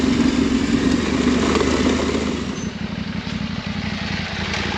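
An 890 motorcycle engine drones steadily while riding, loud and close, with a constant rumbling tone that eases slightly in intensity partway through.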